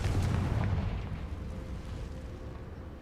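Confringo fire spell explosions in the Hogwarts Legacy video game, a deep booming blast at the start that rolls off into a low rumbling decay.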